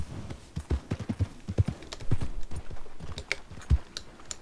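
Horse hooves clip-clop in an uneven trotting rhythm while riding through Red Dead Redemption, close and fairly loud, with soft thumps and rustles between the steps and no talking.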